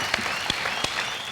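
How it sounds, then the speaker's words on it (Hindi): Studio audience on a Hindi television game show breaking into applause, a brief burst of scattered, crisp hand claps at moderate distance, over in about a second. "जोरदार तालियां हमारी चारों ख्वाहिशों की खिलाड़ियों के लिए"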